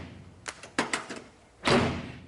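Doors on a 1967 Ford Bronco swung shut, a few short latch clicks and thumps followed by a heavier, solid slam, close up with no talking.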